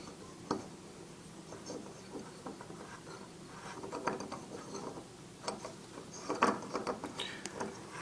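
A Snow Peak GigaPower camping stove being threaded onto a gas canister, with faint close metallic scrapes and clicks scattered through a quiet room, growing busier toward the end.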